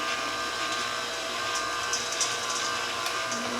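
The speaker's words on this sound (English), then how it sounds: "So this is just a little shredder attachment for my KitchenAid. I'm just going to turn this on." KitchenAid stand mixer with a shredder attachment running, a steady whirring motor drone with a faint grinding edge, close and continuous without pauses.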